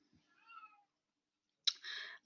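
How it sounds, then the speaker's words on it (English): An old cat howling at a door, two separate drawn-out meows with a quiet gap between them, the second louder and harsher, heard alone in a quiet room. "my ancient cat is howling at the door"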